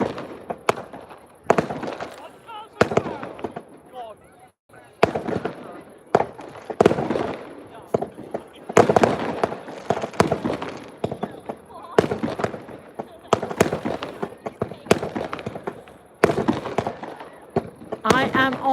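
Carnival fireworks at Ventnor burst in a rapid irregular series of sharp bangs and crackles, some loud and close, others fainter, continuing densely throughout with occasional voices in the background.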